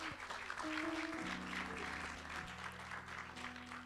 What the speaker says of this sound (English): Can we give the Lord a hand clap of praise today?